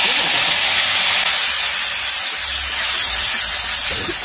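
Cut tomatoes tipped into hot oil for a quick no-onion, no-garlic tomato chutney, producing a loud, dense, steady hiss of frying that fills the whole moment without pause.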